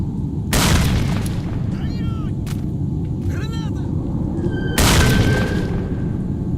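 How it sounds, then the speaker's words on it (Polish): Two heavy grenade blasts in a video game, loud and booming, about four seconds apart, with each followed by a lingering rumble and scattered game effects and tonal whines in between. "tu trzeba jednak bardziej drastyczne środki zastosować. Takie jak na przykład granat."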